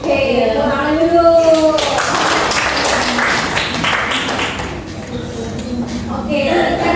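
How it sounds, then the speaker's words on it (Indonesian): Children in a classroom clap together for a few seconds, a dense patter of hands, with a voice and kids' chatter heard over and around the applause. "Oke, tepuk tangan dulu."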